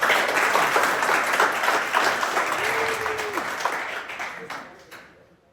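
A crowd applauds at a boxing gym re-opening event, continuous clapping at close range that holds steady and then tapers off toward the end, with a brief tone and voices faintly mixed in.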